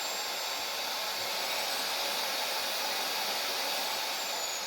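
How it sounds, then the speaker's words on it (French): A Meco Eleverde 4-in-1 handheld vacuum runs at a higher power setting, giving a steady, loud, close airy whine with a high-pitched tone. It holds unchanged for the whole stretch, with no voices. "et ça aspire ou ça souffle. En fait, d'un côté ça aspire, de l'autre côté ça souffle."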